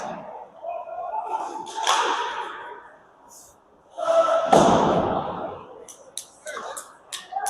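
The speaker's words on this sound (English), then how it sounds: "He's just subtly banging the stick like a bit of a golf clap" A hockey goalie bangs his stick on the ice during a penalty kill in a Hawks vs Royals game, giving a few sharp, hollow knocks and then a quick run of light taps amid arena crowd noise.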